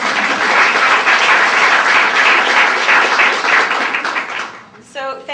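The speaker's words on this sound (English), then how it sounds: "let's have another round of applause." Audience applause at a marketing and communications talk: loud, dense clapping from a crowd for about four seconds, then fading as a voice starts speaking near the end.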